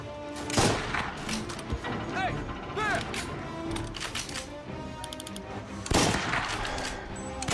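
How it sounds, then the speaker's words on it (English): Gunshots in Mafia Remake ring out in sharp bursts, mixed with clicks and mechanical rattles while a player talks over the action. "we got shots from over there as well"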